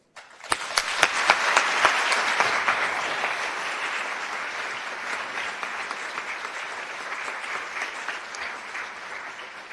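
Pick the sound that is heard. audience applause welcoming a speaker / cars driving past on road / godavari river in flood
audience applause welcoming a speaker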